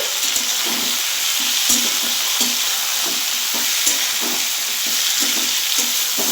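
Thinly sliced onion and tomato sizzle in a pan as they are stirred, steady frying hiss with regular soft scraping strokes of a spoon, close up and without any voices.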